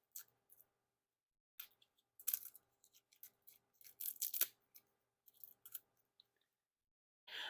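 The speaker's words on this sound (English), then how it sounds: "And now, we'll crack that cellophane." Cellophane wrapper being torn open on a deck of playing cards: sparse, close crinkles and crackles in irregular bursts separated by silence, quiet and with no voices.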